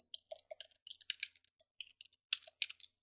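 Keys clatter on a computer keyboard in a short, irregular run of crisp taps as a command is typed, heard close and alone with no talking.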